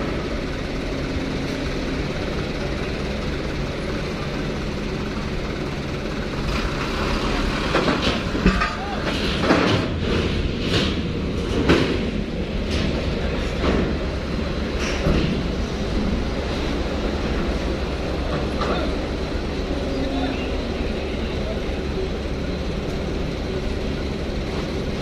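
Trucks and buses, including ALS and Putra Belitang coaches, rumble aboard a ferry at Merak port, a dense steady roar of heavy engines and clanking ramp noise with a cluster of louder knocks and bangs in the middle.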